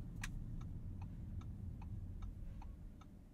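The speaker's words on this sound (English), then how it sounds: "And how about the turn signal sound?" Turn signal of a 2023 Audi S7 Sport ticks in a steady rhythm, about eight clicks, heard quietly inside the car over a low road rumble.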